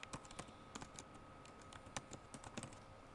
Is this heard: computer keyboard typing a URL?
yes